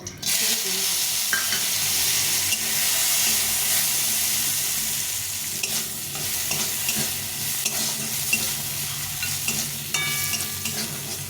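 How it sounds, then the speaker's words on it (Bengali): Bori lentil dumplings rubbed with salt and turmeric fry in hot oil, a loud, continuous close-up sizzle and hiss broken by the scrape and clatter of stirring. "আবার একটু তেল দিয়ে আমি বড়িটাকে ভেজে নেবো"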